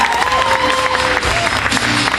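An audience at a comedy hypnosis show applauds and cheers, a dense wash of clapping from a crowd throughout, loud and steady with scattered shouts.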